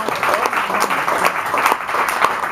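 Audience applause for a musician at a live music café show, steady dense clapping close up throughout.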